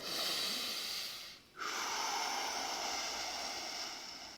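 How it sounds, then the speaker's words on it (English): Slow, deep breathing, a long breath followed by a brief pause and then a second sustained breath, steady and close. "I'll do a few deep breaths"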